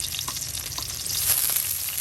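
Onions fry in hot oil in a rural kitchen for a hilsa fish dish. A close, steady sizzle with scattered crackles and pops lasts the whole brief moment, with no voices.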